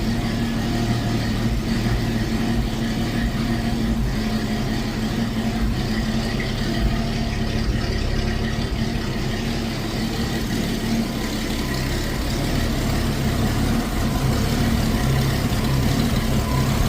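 Engine of a Ford XB Fairmont running on choke after being revived, a steady loud low rumble with a continuous rough idle and slight swells in pitch through the whole stretch, no voices.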